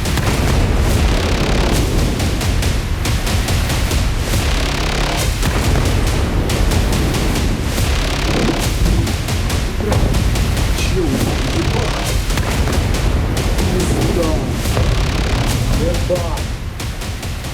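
Russian missile strike on Kyiv: loud, continuous rumbling blasts and booming thuds of explosions fill the whole stretch, dense and heavy with no pauses, with a voice faintly mixed in.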